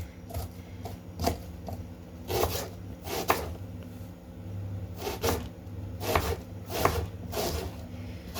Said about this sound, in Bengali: তাই পেঁয়াজগুলো কাটতেছি বেশি বেশি করে